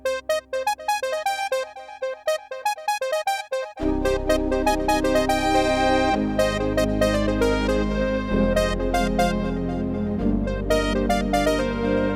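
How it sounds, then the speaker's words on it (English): A bright synthesizer lead, using a 90s gaming soundcard chip, plays a melody, first alone in short notes, then harmonizing itself over full sustained chords and a bass line. "the lead sound harmonizes itself based on the chords that I'm playing on the left hand"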